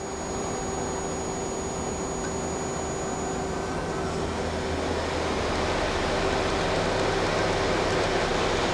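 A Mazak Quick Turn Nexus 300-II CNC turning center spindle runs at 1,000 RPM. It makes a steady whirring drone with a faint tonal whine over broadband machine noise that grows slightly louder toward the end.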